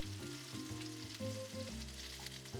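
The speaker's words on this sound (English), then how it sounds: "While our Salisbury steak is cooking" Salisbury turkey steak sizzles in a scorching hot pan, a steady, fairly quiet crackling fry with faint tonal hum underneath, no voices.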